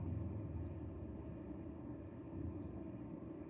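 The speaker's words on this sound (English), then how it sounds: "I hear engine sound that sounds very synced with them" Low, steady engine rumble from nearby cars on a street, continuous broadband drone with a faint high chirp or two, no talking.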